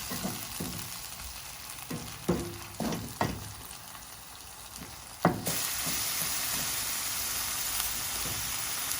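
Masala-stuffed bitter gourd cooking in a pan, soft frying with several sharp knocks and clinks early on, then a sudden louder, even sizzle that holds steady to the end.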